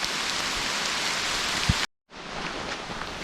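Steady rain falls on a trailhead parking lot, a loud, even hiss that continues throughout apart from a brief break in the middle.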